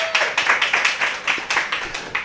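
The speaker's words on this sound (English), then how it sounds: "Round of applause for Laksmi again" Clapping for a guest on a talk show: a run of about a dozen distinct, evenly spaced claps, close and fairly loud, from a small group rather than a large crowd.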